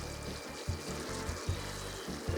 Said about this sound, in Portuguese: aqui o caramelo continua fervendo